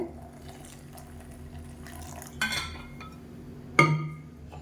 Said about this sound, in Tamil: இப்போ இதில் தண்ணி சேர்த்துக்கலாம் எவ்வளோ தண்ணி வேணுமோ அதுக்கு தகுந்த மாதிரி சேர்த்துக்கோங்க